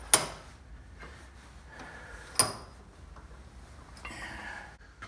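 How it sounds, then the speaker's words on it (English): Two sharp metallic clacks ring out a couple of seconds apart as a lower unit part from a 1963 40 hp Johnson Electromatic outboard is freed from a vise, followed by a brief scraping shuffle, close and fairly quiet. "I'll remove this from the vise"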